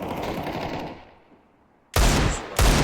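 Gunfire in Counter-Strike 2 during a Juggernaut event: a noisy stretch fades away, then two loud, close automatic bursts crack out back to back near the end.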